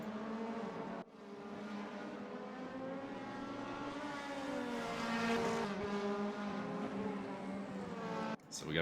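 Several DTM touring race cars lap the Hockenheim circuit in a racing game, engines droning and rising in pitch together, steady and loud with no talk over them.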